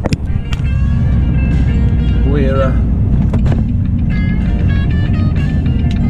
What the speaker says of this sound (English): We're in my P Reg straw lorry, the white one.